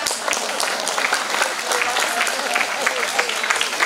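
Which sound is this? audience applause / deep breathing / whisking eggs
audience applause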